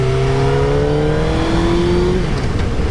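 A Suzuki GSXR 600 K2 sport motorcycle engine revs while warming up, a loud, close, high-pitched whine that climbs steadily and then drops off near the end.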